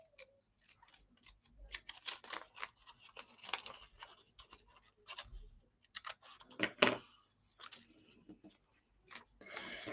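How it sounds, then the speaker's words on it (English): Scissors snipping craft material down to size, a run of close, quick cutting clicks with short pauses and a few louder snips. "Just cut it down to the size that I want."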